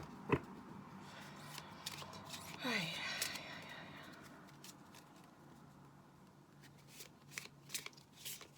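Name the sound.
shuffling cards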